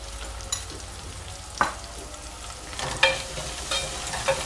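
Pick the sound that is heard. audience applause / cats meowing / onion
onion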